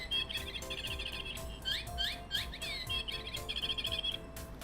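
Electronic bird chirp from a toy keychain circuit: rapid, repeated synthetic tweets in quick bursts, fairly close over a background hum, with no speech.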